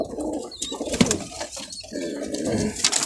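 Pigeons at a pigeon sale coo in low, throaty repeated calls, close by and fairly soft, with faint background bustle and no clear talk.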